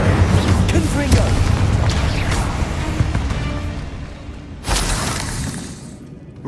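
Spell blasts in Hogwarts Legacy, a Bombarda explosion among rapid-fire magic: a dense, loud burst of shattering and booming effects with a sharp broadband blast near the end over rumbling game ambience.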